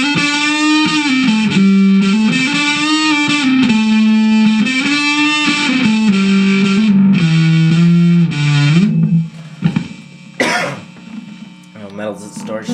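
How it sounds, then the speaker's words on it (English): Electric guitar played through a Vox VT20+ modeling amp on its organic distortion setting, a sustained melodic line of held, bending notes for about nine seconds, then a few scattered short plucks and noises as the playing stops. "They also have an organic distortion."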